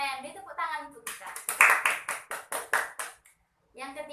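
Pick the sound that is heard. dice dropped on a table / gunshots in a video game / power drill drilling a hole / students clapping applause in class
students clapping applause in class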